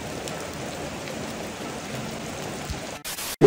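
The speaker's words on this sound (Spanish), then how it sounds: "Está dura la lluvia" Heavy rain pours steadily beside a river, a dense continuous wash of drops close by, cutting off briefly near the end.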